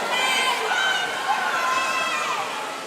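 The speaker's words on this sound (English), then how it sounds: "you can tell the energy level definitely rising on Paul's side, coaches and teams cheering on" Crowd of coaches and swim teams cheering and shouting at an indoor regional swimming championship relay, a dense continuous roar of voices that stays loud throughout, easing slightly toward the end.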